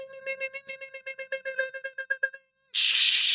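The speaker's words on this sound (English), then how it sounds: "That is the Morse code message of the night." Morse code message tapped out as a rapid train of steady pure tones, short and long beeps in quick rhythm, loud and clean, ending abruptly before a burst of harsh hiss.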